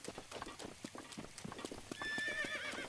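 A horse in the video game Breath of the Wild clops along in a steady rhythm of hoofbeats, then gives a loud, clear neigh near the end, with no talk over it.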